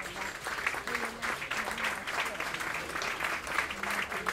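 Audience applause at a literary prize ceremony in Liège, a sustained, fairly close clatter of many hands clapping at an even level, with faint voices underneath.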